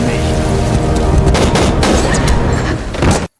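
Loud, dense gunfire in an action film scene set in a warehouse, a rapid volley of overlapping shots and booms lasting about three seconds before cutting off abruptly.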